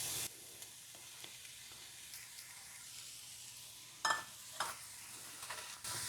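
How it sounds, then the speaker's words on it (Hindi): Frozen mixed vegetables sizzling in a pan for Mughlai paratha filling, a soft low hiss with a few sharper clatters and bursts toward the end, close but fairly quiet. "अब हम इसके अंदर डालेंगे ये फ्रोजन मिक्स वेजिटेबल्स।"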